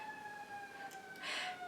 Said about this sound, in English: Oh yeah, just watch the fire truck go by.